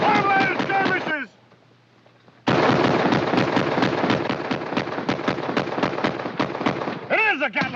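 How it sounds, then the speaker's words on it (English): Rapid, rhythmic bursts from a Gatling gun in a Western sitcom skirmish scene, loud and steady after a brief pause, with shouting voices over the gunfire. "sounds like a Gatling gun"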